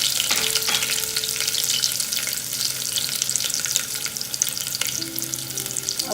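Sesame seeds and ginger paste sizzle in oil over a low flame for undhiyu, a dense continuous hiss close up with a few light stirring clinks, no talking.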